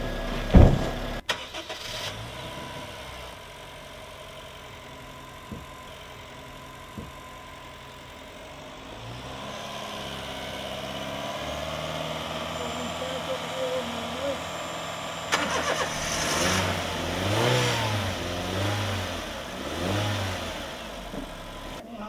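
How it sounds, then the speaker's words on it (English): A car engine starts with a sharp crank and catch, then idles and revs in swelling bursts toward the end, with people talking nearby throughout. "Leave the engine running."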